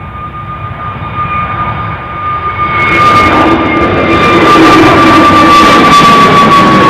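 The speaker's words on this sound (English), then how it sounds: "you can hear the plane noise" An airplane at Newcastle airport in wet, rainy weather roars steadily, its engine noise building louder over several seconds with a sustained high whine, close and dominant, no talk.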